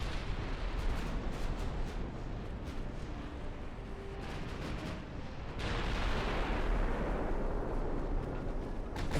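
Battleship guns firing during a naval battle in Ultimate Admiral: Dreadnoughts, a dense continuous roar of rumbling blasts with a heavier surge partway through, no talk.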